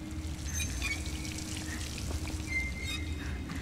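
Dirty water pouring and trickling in the stealth video game Dishonored, a steady splashing flow with faint higher drips over a low hum, continuous for several seconds with no talking.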